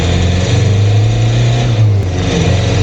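Jeep fitted with a swapped 2.0L TDI diesel engine accelerating, a steady, loud low drone that rises slightly in pitch and holds near and continuous with no talk.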